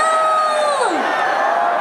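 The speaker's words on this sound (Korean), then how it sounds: "그럼 더 크게! 함성!" A festival crowd at a university concert roars and shouts for the band, a loud, dense wall of cheering with high whoops and a falling shriek sweeping down through it.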